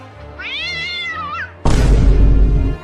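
A cat gives one clear, wavering meow of about a second, followed after a short pause by a sudden burst of loud, broadband noise.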